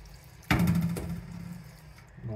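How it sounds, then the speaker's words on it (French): Tap water gushes into a pot of freshly harvested edamame beans, starting abruptly and running steadily, close and fairly loud, with no voices. "Et là vous allez remplir un peu d'eau. Sans que les edamame flottent en fait."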